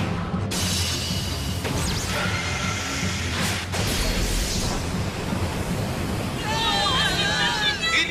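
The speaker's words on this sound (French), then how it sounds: "Il y a 2 rafales de vent." Anime effect of wind gusts whipped up by battling Beyblade spinning tops: a loud, sustained rushing roar that swells and surges, with voices talking over it toward the end.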